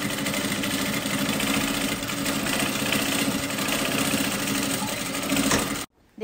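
A sewing machine topstitches along a fabric edge for a Bible cover, a rapid continuous stitching whir running steadily before stopping abruptly near the end.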